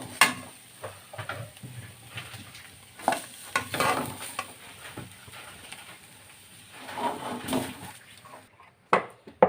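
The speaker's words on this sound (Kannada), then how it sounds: "ಅದಕ್ಕೆ ತೆಂಗಿನಕಾಯಿಯನ್ನು ಫಸ್ಟ್ ಹುರ್ಕೊಳ್ತೇನೆ" Grated coconut dry-roasting in a pan for okra gravy, stirred with a spoon in irregular scraping bursts over a soft sizzle, close by with short quiet gaps and no talk.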